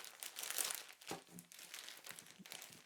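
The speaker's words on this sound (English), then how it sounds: "the sticky flap and sliding the scarf out from the clear plastic packet" A red Paul Smith lambswool scarf slid out of a clear plastic packet: close, soft, continuous crinkling and rustling of thin plastic with a few sharper crackles, faint overall.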